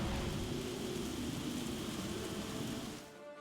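Plague Storm spell effect in the Fell Seal tactics game, a dense hissing roar like heavy rain and rumbling storm, steady and loud, cutting off near the end.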